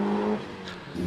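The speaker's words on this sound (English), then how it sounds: "And off the line now, Noor Ali, number 120 in the 1600cc Mazda Mx-5." A 1600cc Mazda MX-5 launches off the line at the Prescott speed hill climb, its engine rising in a loud, close rev that drops back as it pulls away.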